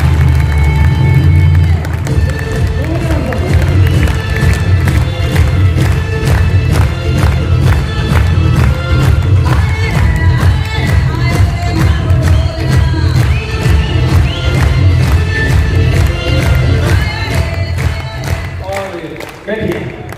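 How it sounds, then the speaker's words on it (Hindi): Loud, sustained applause and cheering from a large audience at a business event stage welcome, with driving music throughout, tapering slightly near the end. "बहुत जोरदार तालियों से इनका स्वागत करेंगे म्यूजिक के साथ में"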